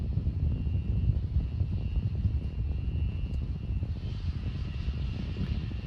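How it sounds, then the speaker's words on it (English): A Cessna light airplane's engine drones steadily throughout, a continuous rough rumble with faint wind noise and no talking. "So we believe it's this plane right here, this Cessna."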